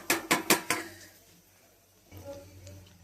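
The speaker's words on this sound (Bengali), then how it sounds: "এটা কিন্তু আমি প্রেসার কুকারের মধ্যে দিয়ে ঢাকনাটা দিয়ে রেখে দেবো এই গরমের মধ্যে।" Pressure cooker lid clattering into place, four quick metallic knocks close together at the start, then a quieter shuffling scrape with a low hum.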